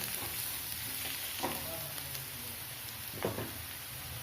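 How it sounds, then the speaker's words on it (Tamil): Onions sautéing in oil in a pan for a Tamil eggplant gravy, a quiet steady sizzle with occasional soft stirring scrapes. "வெங்காயம் நல்லா வதங்கிட்டுங்க. பாருங்கள், நமக்கு வெங்காயம் வதங்கிடுச்சு"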